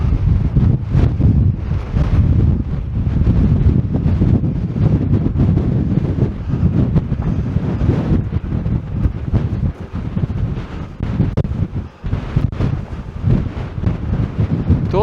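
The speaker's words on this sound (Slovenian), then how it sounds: "Tle pa spet piha." Strong wind on the 2103 m Zelena glava summit in the Prenj mountains, a loud, constant roar of buffeting against the microphone with gusts rising and falling for the whole stretch.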